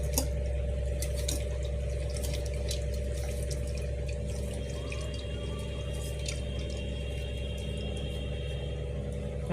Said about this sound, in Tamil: அதனால் நாங்கள் இப்படியே வடிகட்டி ஊற்றுறோம்.